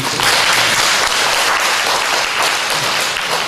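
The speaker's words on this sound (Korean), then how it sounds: "우리 정말 축하의 박수 한번 보내드립니다." A church congregation claps in congratulation, a close, loud and dense burst of applause that holds steady from start to finish.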